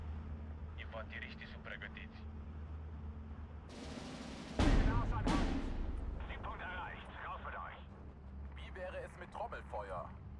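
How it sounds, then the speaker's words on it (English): Heavy mortar and artillery fire in the Steel Division 2 wartime strategy game: a sudden burst of noise, then a big booming blast with a long rumbling decay, over a steady low battlefield drone with faint background chatter. "We're gonna like direct fire me with a 50mm mortar"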